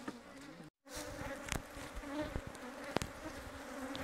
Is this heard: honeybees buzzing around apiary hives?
yes